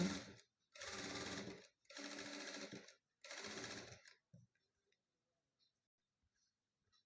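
Sewing machine stitching a blouse neckline, running in four loud, even bursts of rapid whirring stitches separated by brief stops, then falling quiet with only faint handling noises.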